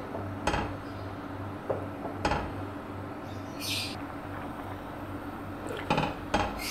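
A spoon clinks and scrapes against a cooking pot while sheer khurma simmers, sparse sharp metallic taps over a steady low hum of heat.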